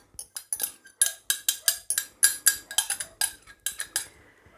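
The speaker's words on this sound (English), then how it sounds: "And we'll just give that a mix round. We'll just mix that up." Beaten egg is mixed into spotted dick batter in a bowl, heard as a steady run of quick metallic scrapes and clinks from a utensil against the bowl, fairly close, with no talking.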